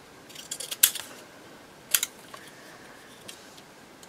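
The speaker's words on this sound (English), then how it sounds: "Let's just cut around these, just get the white off them." Scissors trim around small paper pieces for an accordion journal at a desk, a few sharp close snips and paper rustles separated by quiet pauses, no speech.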